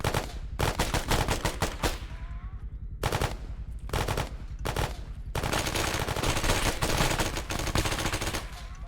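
Loud gunfire during an urban warfare drill: several rapid bursts separated by short pauses, then a longer sustained volley near the end. The shots are close and dominate the scene.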